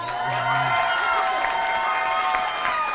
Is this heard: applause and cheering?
yes